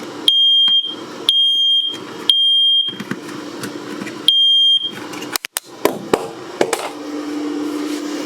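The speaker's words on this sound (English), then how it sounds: "the heater is causing the smoke alarm to turn on" A smoke alarm inside a Geo Pro 19FBS camper trailer, set off by the heater, gives loud, piercing electronic beeps in a repeating pattern of about five bursts. Clattering and rustling movement follows the beeps.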